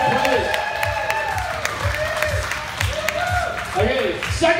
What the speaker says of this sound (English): Warlock, give her a round of applause.